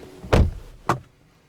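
A 2024 Mercedes-Benz C 300 4MATIC car door opens with a solid mechanical clunk followed by a second softer latch thud, close and clear in a quiet space.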